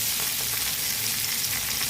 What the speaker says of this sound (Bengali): এই যে দুটো পাতা আমার এক্সট্রা ছিল সেই দুটো আমি এইখানে দিয়ে ভেজে নিচ্ছি